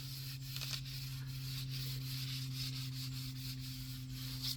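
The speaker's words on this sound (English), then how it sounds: "I'm just going to kind of give that a little more of a rub there" A wooden paddle handle is rubbed down with rhythmic, scratchy back-and-forth strokes, faint under a steady low electrical hum, with no voices.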